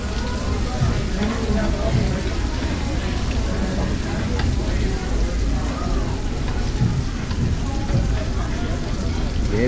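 Korean BBQ food sizzling on a tabletop grill in a Hawaii restaurant, a steady, dense crackling hiss that runs throughout, with people talking over it.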